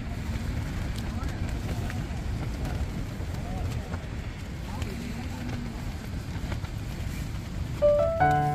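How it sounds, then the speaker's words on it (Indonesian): Strong wind roars outside a tent at a mountain camp on Bukit Sempana, a continuous loud low rumble and buffeting with no pauses, ending in a brief sharp rustle near the close. "Anginnya gede."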